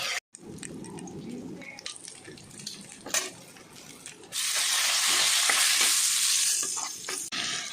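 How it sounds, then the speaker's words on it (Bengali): Prawns lightly frying in a pan, with stirring and scraping at first, then a loud, steady sizzle swelling up and holding for several seconds, close by and without talk. "চিংড়ি মাছটা আমি হালকা করে এভাবে ভেজে তুলে নিচ্ছি"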